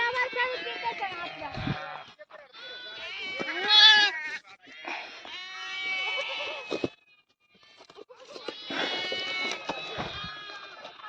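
Several sheep and lambs bleat close by in a sheep pen in loud, overlapping calls, some high and quavering, with brief gaps between bursts.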